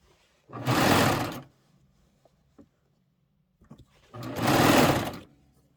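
A serger sewing machine finishing a fabric pillow back runs in two loud, close bursts of rapid stitching, each about a second long, separated by quiet fabric handling and small clicks.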